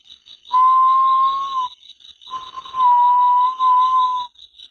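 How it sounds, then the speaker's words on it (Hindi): Two long, eerie high whistles, each holding a steady wavering tone for about a second, over a faint high hum, with short silences between. "उसने एक अजीब सी सीटी की आवाज सुनी।"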